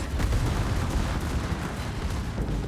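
A battleship's heavy main guns fire in a naval combat game, a dense rumbling barrage of booming blasts that roll into one another, loud and unbroken, with no voices over it.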